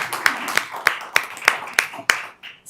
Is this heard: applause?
yes